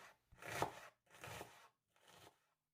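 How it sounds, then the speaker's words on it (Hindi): A knife works on a board, chopping garlic, ginger and onion: three separate rubbing, scraping strokes, each under a second, quiet and close, with no talk. "लहसुन और अदरक को बारीक बारीक चॉप कर लेंगे। एक प्याज लेंगे, इसे भी छोटा छोटा काट लेंगे।"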